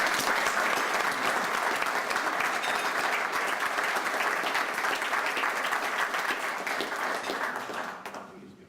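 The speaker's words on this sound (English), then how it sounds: "let's give him a round of applause" An audience at a World Trade Center event applauds the departing UK ambassador, a dense, sustained round of clapping from a sizeable crowd that holds steady before tapering off at the end.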